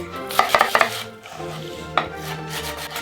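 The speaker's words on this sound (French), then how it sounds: "Oignon couche et on coupe." Onion being chopped with a knife on a cutting board, a quick burst of several crisp close knocks followed by a pause and one more firm cut, with no talking.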